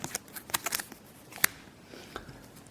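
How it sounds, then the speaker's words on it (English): A few quick riffling card shuffles, sharp papery bursts with one crisp snap in the middle, then quieter handling noises. "got to shuffle the other one back into the deck"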